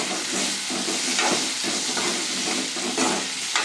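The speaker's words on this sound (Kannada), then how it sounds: "ಸೊ ಇದೊಂದು 5 ಮಿನಿಟ್ಸು ಚೆನ್ನಾಗಿ ನೀವು ಫ್ರೈ ಮಾಡ್ಕೋಬೇಕು" Masala for a green gram curry fries in a pan with a loud, close, unbroken sizzle and hiss, broken by soft scraping as it is stirred.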